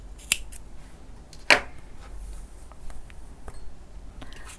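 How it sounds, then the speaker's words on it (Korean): Two short, sharp snips of scissors cutting t-shirt yarn after a crochet slip stitch, the first light and the second a louder crisp cut a second later, against a quiet room. "끝내고 실을 잘라줄게요"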